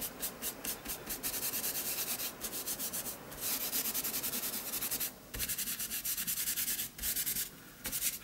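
A baby wipe is rubbed back and forth over paint on an art journal page, giving a rapid rhythmic dry scrubbing close up, with brief pauses between strokes.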